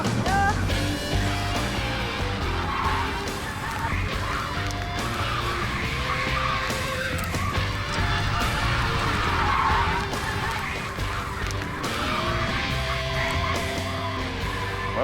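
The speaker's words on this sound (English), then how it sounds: "The other truck hurtles on, unstoppable." A runaway truck hurtles along an airport runway, tires skidding and screeching continuously under loud engine noise and tonal squeals for about fifteen seconds, with no one speaking.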